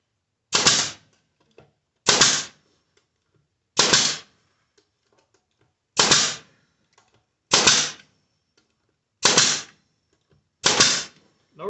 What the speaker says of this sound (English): 1¼ inch nails in my nail gun.